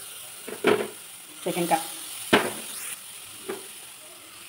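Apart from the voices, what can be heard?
grated carrot frying in ghee for carrot halwa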